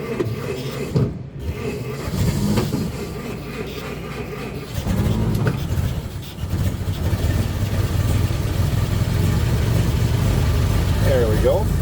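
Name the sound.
1923 Ford Model T Touring engine starting and idling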